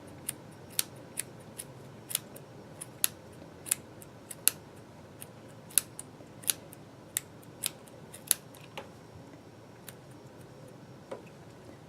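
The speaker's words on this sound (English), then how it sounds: "so now these are my doll hair cutting scissors" Small doll hair cutting scissors snipping short doll hair, crisp quiet snips coming one after another at a steady pace of roughly two per second, close and alone against a faint background.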